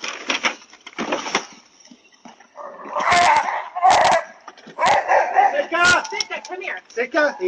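Sled dogs bark and yip in repeated excited bursts, close by, mixed with rustling and thumping noises.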